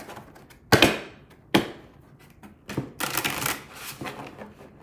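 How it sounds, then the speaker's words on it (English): A deck of tarot cards is shuffled by hand in quick riffling bursts, loud and close, with a few separate flurries and short pauses between them. "They don't want me to shuffle that way anymore."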